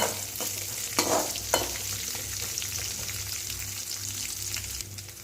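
Chopped onion sautéing in a pan for a ridge gourd chutney: a few crisp spatula knocks up front, then a soft, steady sizzle with light stirring.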